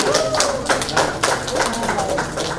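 Audience applause welcoming top-ten finalists at a singing contest event, scattered claps with a voice and music underneath, fairly close and steady.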